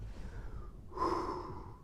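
Someone breathes heavily and audibly in and out, close to the microphone, with a sharp gasping inhale midway followed by a longer, louder exhale.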